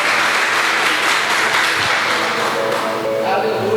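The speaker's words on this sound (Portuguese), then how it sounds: "Se é para o Senhor, aplauda com vontade, porque para Ele é diferente." Church congregation applauding during a worship service, a dense, loud wash of clapping that fills the whole stretch, with faint voices or music mixed in near the end.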